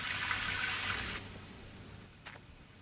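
A steady wash of falling water hisses loudly, then drops away to a quieter background with a faint splash.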